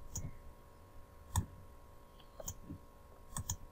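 Computer mouse clicks, a few sharp, faint, close taps spaced irregularly in a quiet room, with no talking.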